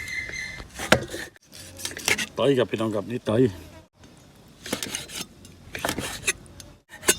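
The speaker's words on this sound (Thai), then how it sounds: "นี่หั่นหัวใจกันก่อน" A knife slices through a beef heart in a rhythmic series of scraping, rasping cuts against a board, mixed with clinks of utensils while someone talks over it.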